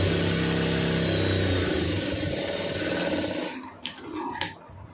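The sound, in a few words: sewing machine stitching a quarter-inch blouse seam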